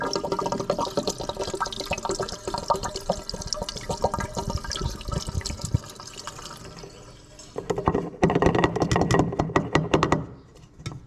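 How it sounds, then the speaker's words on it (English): Seafoam fuel treatment, a clear liquid, being poured from its bottle into a car's fuel tank, giving a close, steady gurgling liquid pour with a brief lull before a second burst of glugging. "we're going to chuck it in, and it's as simple as get the glug glug glug"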